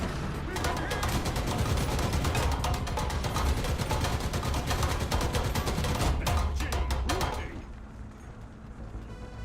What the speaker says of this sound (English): Big cannon go, bonk.